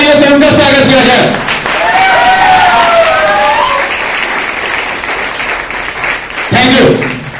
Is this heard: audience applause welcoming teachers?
yes